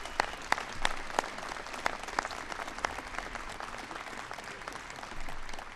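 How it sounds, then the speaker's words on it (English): An audience gives a steady round of clapping in a formal indoor ceremony, a sustained patter of many hands with sharper individual claps standing out, heard alone without talk. "So another applause,"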